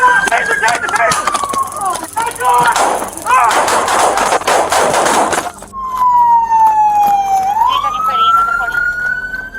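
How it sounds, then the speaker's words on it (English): A police shootout inside a supermarket, heard through a loud wailing siren that sweeps up and down. A dense stretch of sharp cracks and clattering impacts sits in the middle, with shouting mixed in. "Police opened heavy fire as the suspect hid behind the shelves, with dust rising and bullets clattering."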